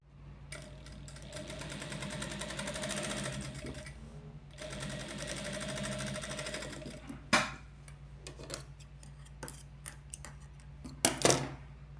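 A sewing machine stitches quilted fabric in two steady, moderately loud runs with a brief pause between them. Sharp clicks and snips follow as the threads are cut.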